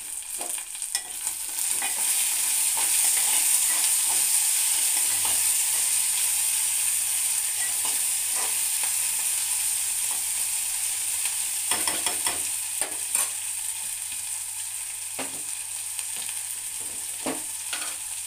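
Fenugreek leaves fry in oil in a home kitchen, making a soft continuous sizzle with occasional scraping stirs, fairly faint with no talk.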